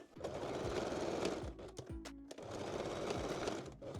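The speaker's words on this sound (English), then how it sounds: "backstitch the center front seam" A sewing machine backstitches the center front seam of a foam cup bralette in two close, rapid bursts of stitching with a short pause between them.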